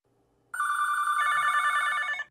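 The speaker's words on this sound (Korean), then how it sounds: "경찰서는 밀려드는 신고 전화로 정신이 없었어요" An electronic telephone bell at a busy police station starts suddenly after a quiet half-second and trills on continuously. A second ring layers over it partway through, loud and near, with no voices.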